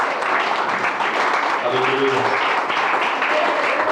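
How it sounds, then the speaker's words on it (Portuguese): Wedding congregation applauding in a church ceremony, steady broadband clapping throughout with a voice calling out over it. "Dê um aplauso ao Senhor."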